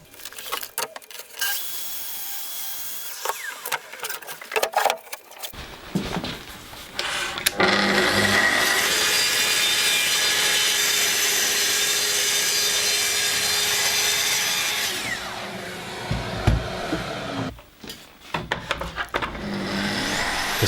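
A saw trims a few millimetres off lipped wooden cabinet shelves in a workshop, with short scraping strokes and handling noises leading into a sustained loud cutting run, then more bumps and scrapes.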